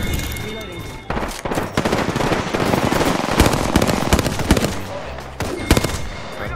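Rapid bursts of Hemlock rifle gunfire in the Apex Legends video game, loud and dense, with repeated three-round volleys and impacts overlapping continuously, mixed with faint game sounds.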